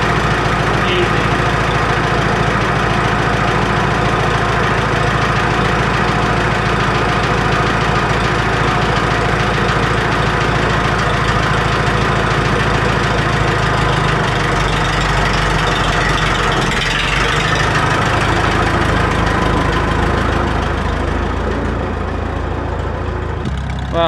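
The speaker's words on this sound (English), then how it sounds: "we've got the tractor over there running now" A 1954 Farmall 300 tractor engine idles with a steady, loud, low rumble and a constant knocking throb that goes on without a break.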